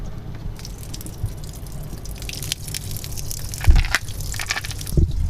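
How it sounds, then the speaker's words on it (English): Water draining from the tanks of a Geo Pro 19FBS camper trailer, irregular drips and gushing splashes outdoors with a couple of louder bursts near the end. "I need to drain the tanks."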